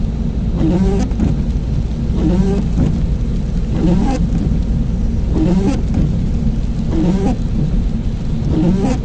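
Heavy rain falls in Doha, Qatar as a steady, loud wash of noise that never lets up, with faint higher chirps flickering through it now and then.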